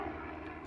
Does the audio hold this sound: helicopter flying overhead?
yes